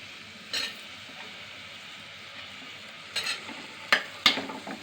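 Paneer fries in a pan under a faint steady sizzle, with a handful of sharp spatula scrapes and clinks as it is stirred, close and fairly quiet.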